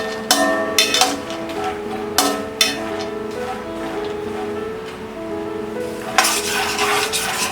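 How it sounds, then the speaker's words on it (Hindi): Peanuts fry in a pan over a low flame, with a soft steady sizzle and a few bursts of stirring and scraping against the pan over faint background music. "मिक्स करते हैं और इसे लो फ्लेम में पीनट्स ब्राउन होने तक फ्राई करेंगे।"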